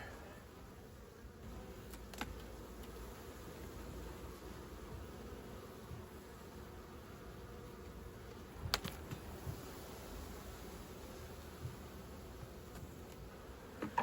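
Honey bees, workers and drones, drone in a continuous low hum from an opened, crowded spring beehive, with a few faint rustles and clicks from handling the frames.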